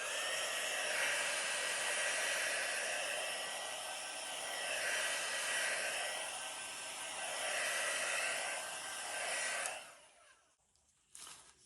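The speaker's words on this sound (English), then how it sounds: "Just going to use heat embossing tool." A heat embossing tool blows over fluid art paint to pop bubbles, a loud steady blowing whir that holds for about ten seconds, then cuts off, followed by a brief short burst.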